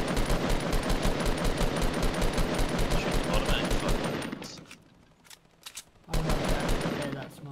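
Rapid automatic gunfire in the Fortnite Battle Royale 50v50 mode, loud and close, a dense steady stream of shots for several seconds that drops to a near-quiet lull with a few isolated cracks before the sustained firing starts up again.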